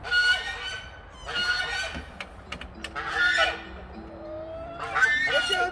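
Farm ducks out at the water after their water has been changed, giving loud bursts of honking quacks separated by short pauses, close by, with quieter calls and low background noise between the bursts.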